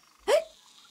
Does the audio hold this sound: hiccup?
yes